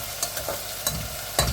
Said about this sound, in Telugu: ఉల్లిపాయల్ని బాగా ఫ్రై చేసుకోవాలి.